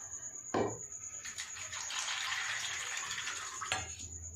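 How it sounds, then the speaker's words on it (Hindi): Water poured off soaked, sprouting mung beans, a sudden splash followed by a steady rushing pour for several seconds that ends with another splash, under a constant high electrical whine. "तो अभी हम इसको भी ऐसे पानी निकाल के और पूरा पानी ऐसे निकाल"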